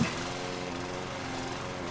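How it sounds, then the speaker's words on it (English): A lawn mower runs over garden plants to chop them up, giving a steady, even engine drone with no pauses and no talk. "I'm going to take them over to my lawnmower."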